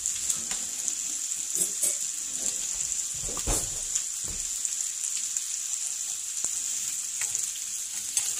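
Food sizzles steadily in a frying pan, a constant bright hiss with occasional scraping clinks as a fork stirs it around; no voices.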